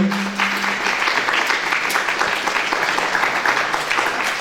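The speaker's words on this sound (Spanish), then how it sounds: "Pero que se siente ese aplauso para el Señor." A church congregation gives loud, continuous applause during a sermon, a thick wash of clapping with a brief held tone near the start.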